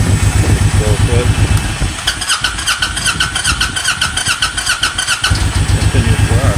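A Honda VTX 1800 motorcycle engine keeps running and dieseling after shutoff because of a stuck starter solenoid, idling loudly and close with a steady low throb. A burst of rapid clicking and whirring interrupts the idle in the middle before the throb resumes.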